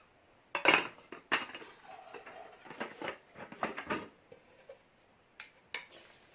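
Metal saucepans, lids and a small teapot from a compact, lightweight portable cookware set for a camp stove, clinking and clattering as they are handled, with irregular sharp knocks and rattles close by.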